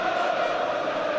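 A large stadium crowd at a 2006 testimonial football match roars steadily in appreciation of Roy Keane, a dense, sustained wash of cheering and voices heard at a distance without any break.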